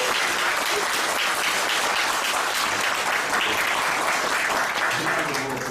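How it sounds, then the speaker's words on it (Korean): Sustained audience applause fills a church service honoring Rev. Lee Yong-nam, retired senior pastor of Jangseok Church, dense and steady throughout with no break. "이용남 원로 목사님께 다시 한번 박수 한번 부탁드립니다"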